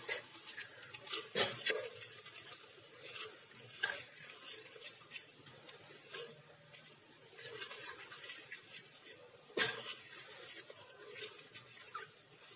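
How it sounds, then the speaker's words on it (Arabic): A spatula stirs caramel-coated popcorn in a pot, with faint scraping and rustling strokes and a few sharper knocks against the metal, quiet and steady throughout. "هبدا ان انا استخدم السباتشوله كده عشان اقلب عشان يبقى كله لون متواحد"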